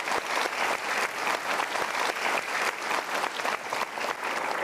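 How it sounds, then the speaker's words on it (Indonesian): A studio audience at an Indonesian motivational talk show applauds in a dense, loud, continuous burst of clapping that holds steady throughout. "Kita berikan tepuk tangan untuk mereka."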